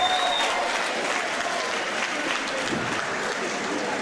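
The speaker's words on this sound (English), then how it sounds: "Big round of applause before we do the announcement of the winner for Hiki West and Matt Moore." A crowd applauds steadily at an XFC amateur MMA event just before the winner is announced, a dense, even wash of clapping and cheering filling the hall throughout.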